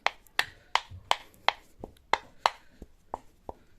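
Rhythmic pounding of an herbal mixture with a pestle in a mortar, about a dozen sharp, evenly spaced knocks close up with no talking.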